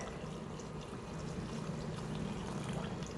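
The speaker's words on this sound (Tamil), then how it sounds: "இன்றைக்கி நான் ஒரு 5 கப் அளவுக்கு தண்ணி சேர்த்துக்கிறேன்." Water is poured steadily into a pot of roasted mutton to make stock for mutton mandi, a continuous soft splashing stream that runs the whole time at low level, with no speech.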